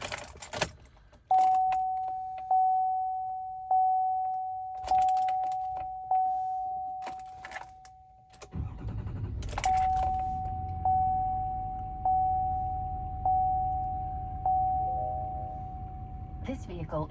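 Key turned in the ignition of a Duramax truck with an Allison transmission, bringing a repeating electronic chime that rings steadily, then the diesel engine starts around midway and idles low beneath the continuing chimes.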